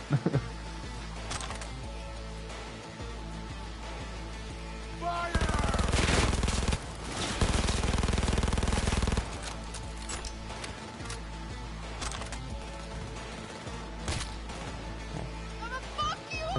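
Gunfire in the video game Cyberpunk, bursts of rapid shots over a steady game soundscape, with a loud sustained barrage in the middle of the stretch and scattered sharper cracks on either side.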